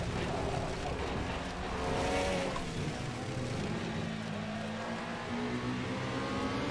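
An Alfa Romeo race car in Assetto Corsa on the Nordschleife roars continuously, its engine pitch rising and falling through gear changes, loud and close throughout.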